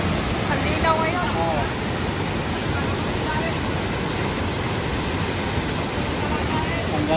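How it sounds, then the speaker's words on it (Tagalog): Steady, dense roar of a waterfall in Laguna, continuous and fairly loud throughout, with faint voices murmuring beneath the rushing water. "Ang ganda ng falls."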